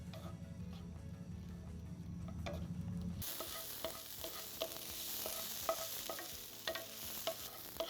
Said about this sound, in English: now we're going to want to let this cook and saute down for about 3 to 4 minutes